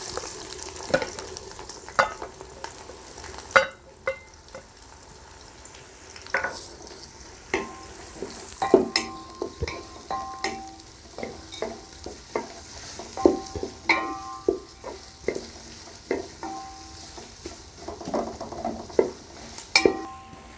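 Onions sautéing for seeraga samba chicken biryani hiss steadily in a pan while a spoon stirs and scrapes in irregular clicks and taps, close and moderately quiet throughout.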